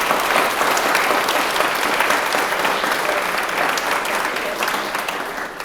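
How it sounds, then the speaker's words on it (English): Audience applause for three speakers at a Coffeeshop Astrophysics 10-year anniversary event: dense, steady clapping from a large crowd fills the whole stretch, easing off slightly toward the end. "can we please give a big round of applause for all three of our speakers who came out here tonight"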